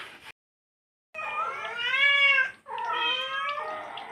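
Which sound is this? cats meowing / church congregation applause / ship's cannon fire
cats meowing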